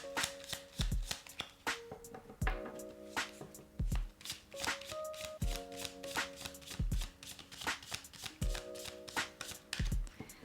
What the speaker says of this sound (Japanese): ここからカードを7枚出して見ていきます。